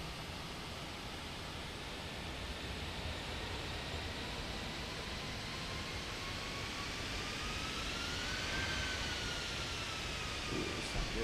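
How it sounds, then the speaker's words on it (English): Fenix A320 jet engines in MSFS 2024 spool up with parking brakes released, a steady broad roar with a faint rising whine that swells slightly louder toward the end, heard alone. "we'll give it a little bit of an oomph to see what the engines sound like"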